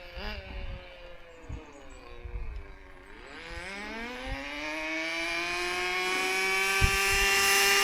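A vintage Kyosho Sandmaster 1/10 2WD nitro RC buggy winds up to full throttle, its thin, high engine whine climbing steadily in pitch and growing louder as it comes closer, with a few knocks early on.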